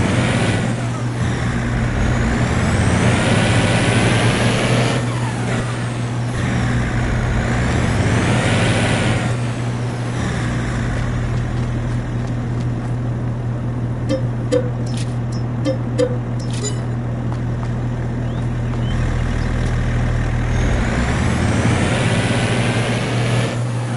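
A truck in Farming Simulator 22 reverses with a steady, loud diesel engine drone and a low rumble that rises and falls slightly, with faint clicks partway through and no talking.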